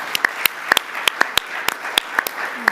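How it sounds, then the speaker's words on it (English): Scattered, sharp hand claps from a modest audience at the 2022 New South Wales Australian of the Year Awards ceremony, with individual claps spaced irregularly and heard close, without talk. "keep the applause going"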